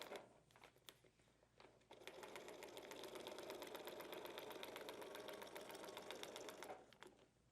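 A sewing machine stitches a seam through paper-pieced Quilting Cuddle fabric in one steady, close run of about five seconds. Scattered clicks and handling noises come before and after the stitching.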